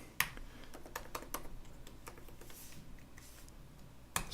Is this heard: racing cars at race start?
no